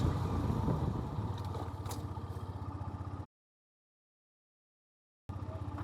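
A 125cc city motorcycle's engine runs and winds down as it brakes hard from 60 to a stop, with a clattering mid-pitched idle, then a gap of silence before the engine sound returns.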